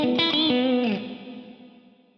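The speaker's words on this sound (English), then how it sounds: "So the echo delays from the block diagram go back through the reverb diffuser." Lexicon PCM81 echo delays fed back through the reverb diffuser, a bright chorused tone with repeating delayed echoes that smear and decay into a fading reverb tail.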